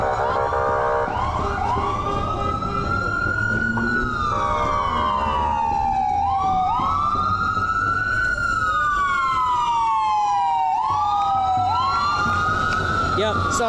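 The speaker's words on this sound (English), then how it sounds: "Oh, that's the ambulance." An ambulance siren wails as it passes along a street during a protest march, its rising and falling sweeps loud and continuous. Traffic and crowd noise stay underneath throughout.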